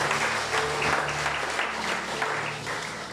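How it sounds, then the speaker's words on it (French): A church congregation applauding, a dense steady wash of clapping that fills the room from start to finish, with a low hum running underneath. "Est-ce qu'on peut acclamer le Seigneur tout en restant ici?"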